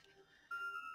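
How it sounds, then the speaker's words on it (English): A phone rings indoors, a steady electronic tone beginning halfway through and continuing to the end, faint and close, with no talk over it. "that was my phone ringing"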